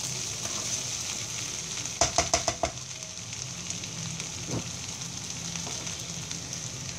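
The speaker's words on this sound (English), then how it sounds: "You have to cook this without a cover. You don't have to cover this dish. Just keep stirring. It's like a stir fry." Capsicum rice made from leftover rice stir-fries in an uncovered pan, giving a soft, continuous sizzle, with a quick burst of sharp spatula taps against the pan midway and a few fainter scrapes later.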